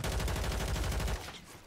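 Rapid automatic gunfire in Call of Duty on Rebirth Island, a loud, close, evenly spaced burst of shots lasting about a second before cutting off, with no talking.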